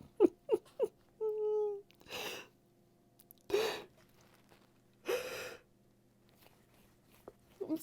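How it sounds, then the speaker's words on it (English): A person yawns during a live stream, giving a few short breathy intakes, a drawn-out voiced yawn, then several more breathy exhalations separated by quiet gaps, close and moderately soft. "now I've seen the word yawn, it set me off"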